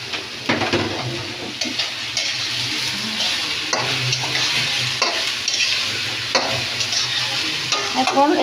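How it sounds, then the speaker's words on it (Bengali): Potato bhaji with onions fries loudly in oil in a kadai, a continuous close sizzle punctuated by rhythmic scraping stir strokes throughout. "আলু ভাজিটা দিয়ে দিই কড়াইয়ে।"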